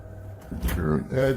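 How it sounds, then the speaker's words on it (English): A door in a house slams shut with a single dull thud partway through, while people talk around it. "My door just slammed again."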